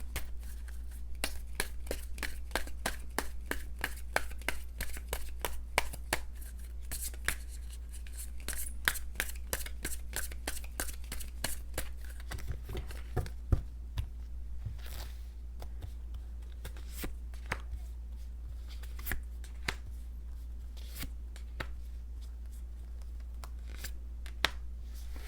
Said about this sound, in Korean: 제가 오늘 본격적인 리딩 하기 전에 추가 카드 먼저 미리 뽑은 다음에 빠르게 리딩 시작해 보도록